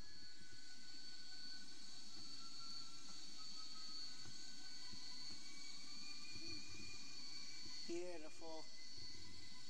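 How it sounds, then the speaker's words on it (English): A simulated aircraft taking off in the FlightGear flight simulator gives a steady, moderately quiet engine drone throughout, with a single brief spoken word near the end. "Let's do a standard takeoff."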